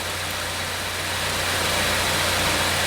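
A 2016 Ford Escape engine idles steadily, close and loud, a constant low hum with a broad even rush of noise throughout and no voices.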